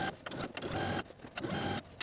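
A sewing machine understitches a seam allowance to a skort's yoke facing, a quiet close run of rapid needle chatter in three short bursts separated by brief stops.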